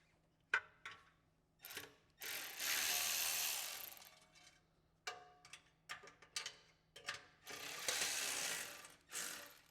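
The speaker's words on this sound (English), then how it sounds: "a 5/16 socket is all we're gonna need to loosen that up" A ratchet with a 5/16 socket loosening the heat shield clamps on a Harley exhaust, close bursts of rapid clicking alternating with longer sustained ratcheting runs, with quiet gaps between and no talking.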